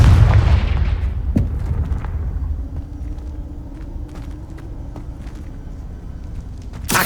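A spell blast in the Hogwarts Legacy video game opens with a loud, deep boom that fades into a long low rumble with faint crackles, ending in a sudden fresh burst.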